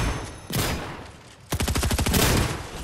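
Gunfire in Fortnite, a single loud shot followed by a rapid, close burst of automatic fire with evenly spaced cracks.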